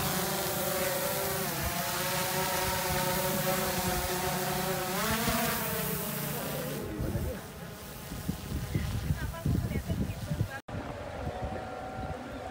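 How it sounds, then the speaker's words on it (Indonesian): Engine-powered kite buzzing overhead, a steady high droning whine with wavering pitch that fades out and gives way to rustling noise. "Mas Bima punya layang-layang canggih nih, pakai mesin"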